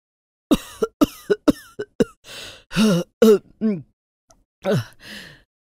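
An elderly woman's run of sharp, repeated coughs, close and loud, followed by a few rasping throat-clearing sounds and groans, with brief pauses between.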